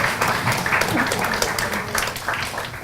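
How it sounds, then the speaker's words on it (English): A small audience at a salmon cooking demonstration claps hands, uneven and fairly close, with individual claps standing out through the short burst. "Clap hand lah, he finished already."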